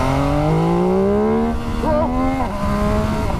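A 2021 MV Agusta Dragster 800RR motorcycle accelerating hard in first gear, its engine note climbing steadily and loud, with a brief wobble in revs before pulling on again.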